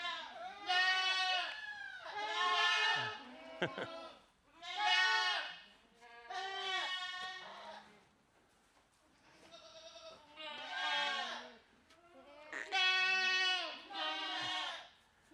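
A herd of farm goats bleats repeatedly and loudly, calls coming in long wavering bursts one after another with brief gaps, close by and with no talk over them.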